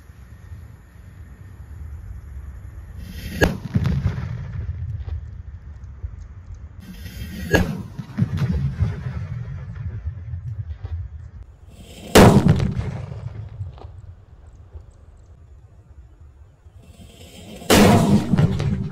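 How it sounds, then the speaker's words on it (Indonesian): Four loud paper-wrapped banaspati firecracker bangs go off several seconds apart, each a sharp crack followed by a booming rumble that fades into outdoor background noise. "Mercon banaspati level 4 guys."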